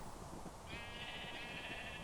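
A single Minecraft-style video game sheep bleat, synthetic, wavers steadily for over a second above a dense layer of low background noise.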